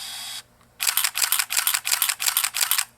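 A Nikon 8008S film SLR camera shutter fires repeatedly, eight crisp mechanical clicks in a steady rhythm after a brief whirring burst, close and clear with no talking.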